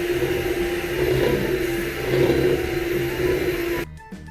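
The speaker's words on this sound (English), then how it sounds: "Next, I'm going to use my mixer." An electric mixer beats icing sugar frosting for chocolate brownies with a steady, loud whirring drone that holds for about four seconds and then cuts off abruptly, leaving faint clatter.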